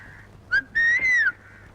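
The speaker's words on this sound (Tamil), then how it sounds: "முட்டைக்கார பொண்ணு என்ன பார்த்தா விசில் அடிக்குது?" A woman whistles a short two-part call in a Tamil comedy film scene, a brief first note followed by a longer sustained rising-falling tone, clear and fairly close over a quiet background.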